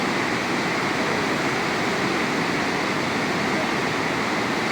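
Dhauli Ganga river water rushing at Vishnuprayag, a steady, loud, broadband roar of flowing water that stays constant throughout with no break or voice.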